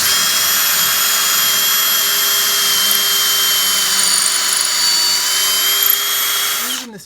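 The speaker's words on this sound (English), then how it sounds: "And also make sure that you drill straight." A power drill runs continuously while boring mounting holes for a DuraScreen installation, a loud steady high-pitched whine held for several seconds before spinning down at the end.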